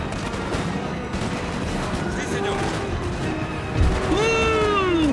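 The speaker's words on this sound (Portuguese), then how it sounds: "O canhão já tá metralhando aqui." A cannon fires canister shot in Total War: Napoleon amid a constant roar of battle gunfire, with a deep thump near the end under continuous clatter; someone speaks over the din.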